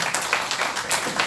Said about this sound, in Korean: 우리 하나님 앞에 영광의 박수 한번 올려드리겠습니다